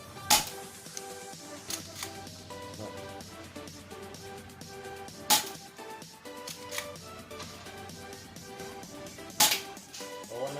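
A C1911A1 replica pistol is test-fired at drinking straw targets about five metres away, giving a few sharp, snappy cracks spaced several seconds apart, with quieter clicks and handling noises in between, close by.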